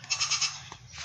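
A goat bleats in a quick string of four short, wavering cries close by, followed by a softer call.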